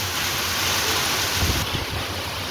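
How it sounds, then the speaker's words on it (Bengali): A heavy hailstorm with large hailstones and rain pours down in Kolkata, a dense, constant roar of falling water and ice with a few nearby thuds of bigger impacts, loud and close, no talking. "কি বড় বড় শিলাবৃষ্টি"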